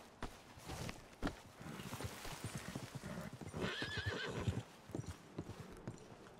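A horse in the video game Red Dead Redemption 2 whinnies while hooves clop along in an uneven walking rhythm, close by and fairly clear, with a few louder stamps.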